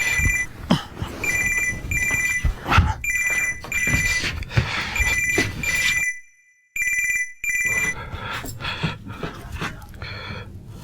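A telephone rings at home: repeated bright electronic ring bursts continue for about ten seconds over a busy, noisy background. The ringing briefly drops into near silence before resuming, and no one speaks.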